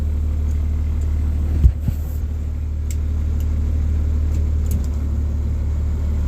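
A converted school bus engine rumbles steadily with a deep low drone as the bus creeps forward, a brief clunk partway through, no voices.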